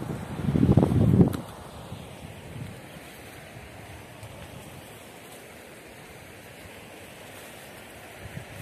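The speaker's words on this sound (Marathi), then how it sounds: "खूप धावतं पाणी आहे नदीचं" A fast-flowing, muddy river swollen by heavy rain in the ghats gives a loud rushing burst at first, then settles into a steady, broad wash of water noise.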